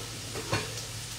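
Dal tempering (tadka) sizzles in a pan, a soft steady frying hiss with a brief stirring scrape in the middle, no voices.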